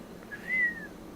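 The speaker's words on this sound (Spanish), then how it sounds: "Soltó un silbido." A person gives a single short whistle, a thin, clear tone that rises slightly and fades, fairly faint and heard alone.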